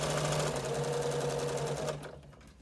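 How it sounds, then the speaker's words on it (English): A sewing machine stitches fabric for a surgical cap with a fast, steady mechanical whirr and a regular needle rhythm. It runs close and fairly quiet, then stops abruptly near the end, and there is no talking. "I just sew around, keeping the edge of my cap on the 3/8 mark"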